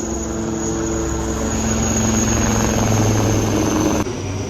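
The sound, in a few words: army helicopter flying past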